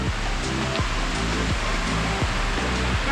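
The waterfall at the Lower Cascades in Hanging Rock State Park roars steadily and loudly nearby, a dense unbroken rush of falling water with no voices over it.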